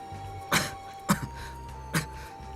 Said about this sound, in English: His face was tight with pain and his coughing was getting worse